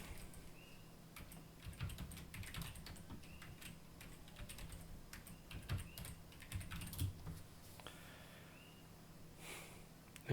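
Username and password typed on a computer keyboard: a quiet, steady run of close key clicks with uneven rhythm and brief pauses, continuing throughout.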